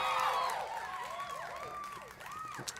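Crowd cheering sound effect played during a live talk show stream: a short, steady burst of cheering with whoops and shouts that fades slightly toward the end.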